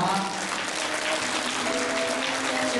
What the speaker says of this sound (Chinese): 也给他们一个热烈的掌声好吗